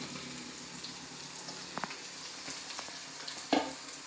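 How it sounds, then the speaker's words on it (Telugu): Ginger pieces, garlic and onion crackle in hot tempering oil, a steady close sizzle with a few sharper pops and spoon scrapes near the end. "పోపు పెట్టుకున్నాం కదా, అందులో వేసేస్తున్నా"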